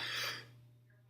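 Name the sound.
cough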